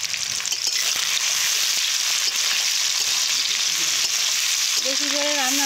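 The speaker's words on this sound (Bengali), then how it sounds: "প্রথমে পেঁয়াজগুলো ভালো করে ভেজে নেব" Onions frying in a large pan for a big batch meant for 15 to 20 people, a loud continuous close sizzle with stirring throughout, and a brief tonal squeal near the end.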